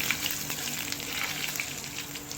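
Tadka for dal frying in a pan with whole white cumin seeds stirred in, giving a steady close sizzle with soft crackle throughout and no talking.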